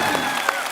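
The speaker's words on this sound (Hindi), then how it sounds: "बस अब जोरदार तालियां हो जाए मेरे।" Studio audience on The Kapil Sharma Show breaks into brief, steady applause, a short burst of dense clapping heard on its own.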